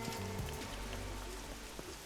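Quiet rain falls in the video game Schedule 1, a soft steady patter beneath low humming game tones.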